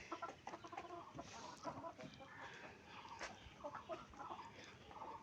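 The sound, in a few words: hen clucking after laying eggs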